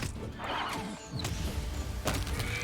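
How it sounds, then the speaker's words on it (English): Plagued horses in a video game give a short, moderately loud whinny, with faint clip-clop and ambient game noise behind it. "Oh, got some plagued horses."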